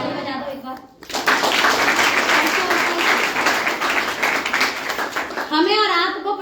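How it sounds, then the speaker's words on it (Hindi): Audience applause breaks out at a business plan presentation, a dense sustained burst of clapping from a crowd that starts suddenly after a short pause and continues loudly for several seconds before a voice returns at the end. "ताली बजा दो एक बार।"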